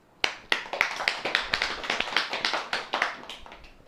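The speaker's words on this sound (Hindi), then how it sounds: "ताली बजाओ।" Audience hand clapping at a religious sermon gathering, a series of sharp, fairly regular claps in an even rhythm lasting several seconds, alone without speech.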